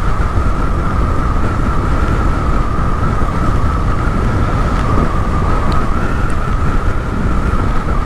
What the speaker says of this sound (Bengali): ওই পাশ থেকে ওই পাশের গাড়িগুলো যাচ্ছে।